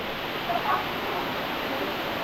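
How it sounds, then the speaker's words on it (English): Waterfall in Ubud, Bali, heard up close as a steady, dense broadband roar that stays even and continuous throughout. "Here's the waterfall up close."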